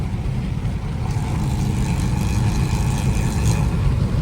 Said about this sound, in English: Nah, but the Camaro up there sounds crazy.